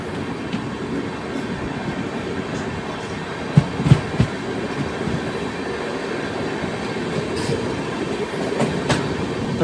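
The Charminar Express from Hyderabad to Chennai rumbles steadily from inside an AC 2-tier coach, with a constant low roar, faint rhythmic wheel clatter and a few sharper knocks and clunks partway through.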